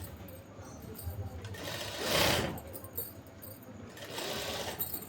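Close, steady whir of a sewing machine stitching a palazzo seam, with short bursts that swell as the fabric feeds through and brief pauses between runs.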